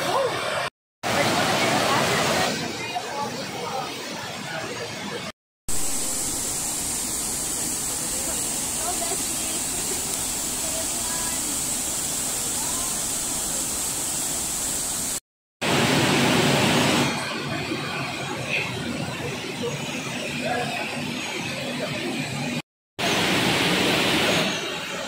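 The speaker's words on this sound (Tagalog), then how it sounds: "And this is the waterfall." Broad, steady rush of the Dam Agan waterfall in Dimiao, Bohol, swollen and milky after days of rain, roaring close and loud throughout with a few brief cuts to silence and faint voices under the torrent.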